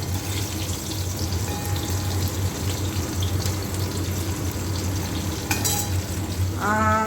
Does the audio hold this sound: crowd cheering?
no